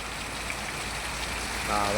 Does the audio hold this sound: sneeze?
no